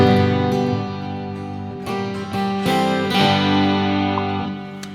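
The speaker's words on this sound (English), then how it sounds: "And then I'm going to add the acoustic sound from the piezo pickup." Layered guitar tones with the acoustic sound of a piezo pickup blended in, forming a sustained, chord-rich texture over several soft strums and plucks, steady and fairly loud with no talking.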